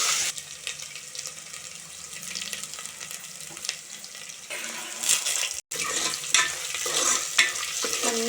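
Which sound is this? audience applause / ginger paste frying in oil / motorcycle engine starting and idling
ginger paste frying in oil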